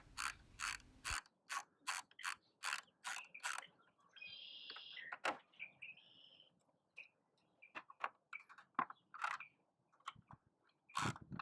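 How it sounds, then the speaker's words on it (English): A ratchet clicks in steady, close bursts while unbolting a bolt on a motorcycle's plastic RAM air cover, followed by quieter squeaky metallic turns and scattered taps. "we're going to unbolt the 2 bolts that hold in the RAM air cover"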